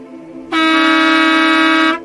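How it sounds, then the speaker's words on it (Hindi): A truck horn sounds in one loud, sustained blast of about one and a half seconds, cutting in abruptly and stopping cleanly, with no talk over it. "तभी पीछे से एक ट्रक ने हॉर्न दिया।"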